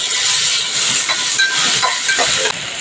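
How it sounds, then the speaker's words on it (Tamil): Tomato dropped into a hot pan of browned fried garlic and tamarind for a mint-coriander chutney, giving a loud, steady sizzle and hiss with a few soft clicks and stirs over about three seconds. "இப்போ நான் ஒரு தக்காளி போடுறேன்"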